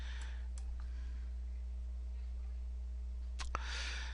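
A couple of sharp computer mouse clicks over a steady low electrical hum, sparse and close, with a brief brighter rustle near the end.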